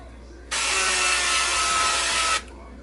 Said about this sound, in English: I'm going to spray it with some olive oil.